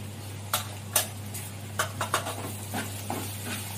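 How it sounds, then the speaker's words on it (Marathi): Ground spices, red chilli powder, Malvani masala, turmeric and garam masala, sauté in hot oil, giving a low frying hiss under repeated scraping stirs, with a steady hum underneath. "सर्व मसाले आपल्याला परतून घ्यायचे आहेत तेलामध्ये"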